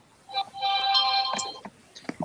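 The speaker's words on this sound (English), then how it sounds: "My phone is making all kinds of noise." A phone ringtone chimes out in a sustained tonal melody for about a second, fairly close and moderately loud, followed by a few short electronic blips and a faint voice at the end.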